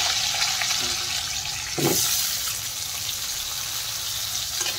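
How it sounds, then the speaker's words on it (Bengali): Cut potatoes frying in hot oil after a tempering of whole cumin and green chillies, a steady close sizzle with a brief louder splash-like burst as pieces go in, then continuing hiss; no talk. "এখন আমি কেটে রাখা আলুগুলো দিয়ে দিলাম।"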